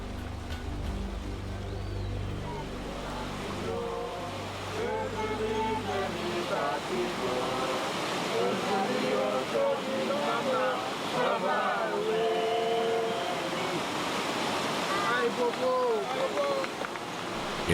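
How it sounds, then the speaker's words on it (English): The sacred Voodoo waterfall at Sodo sends down a continuous broad roar of cascading water, loud and steady throughout, with voices and singing rising over it partway through. "Sodo, the sacred waterfall."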